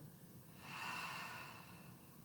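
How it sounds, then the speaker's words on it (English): One long, loud open-mouthed exhale from a yoga breathing exercise, a close breathy whoosh rising then tapering off, alone without speech. "Exhale loud and long."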